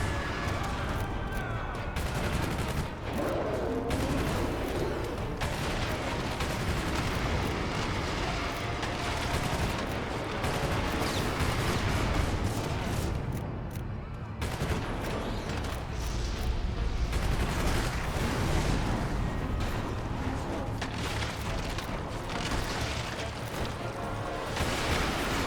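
Gunfire in the video game Prototype, dense rapid bursts and booms rattling almost continuously at close range, with occasional talking in between.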